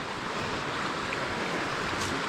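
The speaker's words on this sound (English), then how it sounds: "There's a stream crossing right here, and sure enough, that is a raging river." A raging river at a stream crossing on the Reddish Knob trail, a steady, loud rushing roar of water that continues without a break, with no talking.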